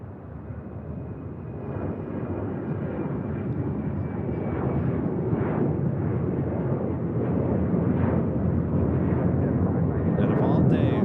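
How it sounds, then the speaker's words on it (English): An Alaska Airlines Boeing 737-900ER jet departs LAX with a loud, broad engine roar that builds steadily over the whole stretch. "Next departure is Alaska Airlines Flight 1442. It's a 737-900 ER."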